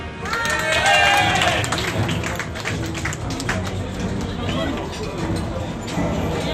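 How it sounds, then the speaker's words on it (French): An audience applauds after a magician's card trick at an evening event, the clapping mixed with crowd murmur and scattered cheers for several seconds while voices carry through the room. "On peut l'applaudir la dernière fois."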